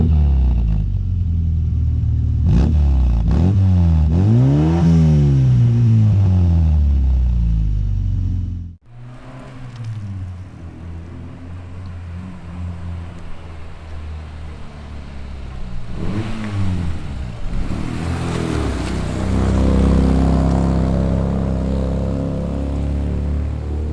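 A Miura Targa car engine revs hard with rising and falling pitch sweeps, briefly cuts out, then resumes driving with a steady rumble and further revving, loud and close throughout.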